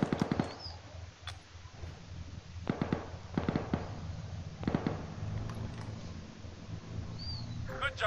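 Artillery shells exploding in the military shooter Arma 3, several muffled booms landing in irregular bursts, with radio-style voices talking over and between the impacts.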